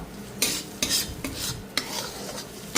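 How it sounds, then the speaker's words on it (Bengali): Spice paste for a Bombay duck fish curry is stirred and fried in a pan, with four or five distinct scraping strokes of a spoon over a soft steady sizzle, close and fairly quiet, with no voices. "মশলাটাকে কষবো, দেন একটু জল দিয়ে মাছগুলোকে দিয়ে দেবো হালকা।"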